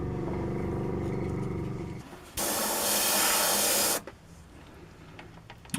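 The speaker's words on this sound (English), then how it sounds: "just going to leave the trigger forward for the time being and just use air" A steady burst of hissing air from an airbrush blows for about two seconds, loud and broadband, between quieter mechanical humming before and after.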